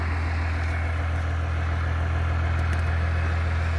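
A turbocharged V6 truck engine runs on a farm with a loud, steady low drone, unbroken and close, with no voices over it.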